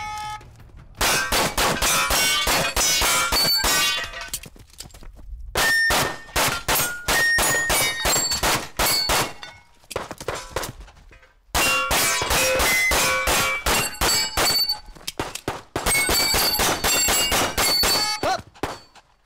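Rapid gunshots ringing off steel plates during a pro shooting competition stage, with sharp metallic clangs and dings fired in quick strings of hits, broken by short pauses between bursts, loud and close, with no talking.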